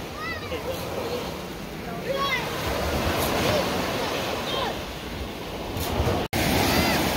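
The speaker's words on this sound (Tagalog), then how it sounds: "Malakas ang alon." Ocean waves surging and washing ashore under gusty wind, with people talking and occasional high calls over the steady roar.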